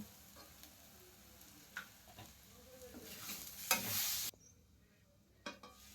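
Ginger paste fries in a pan for an egg fry curry, with a low, quiet sizzle and a rising burst of frying hiss as it is stirred, then fading.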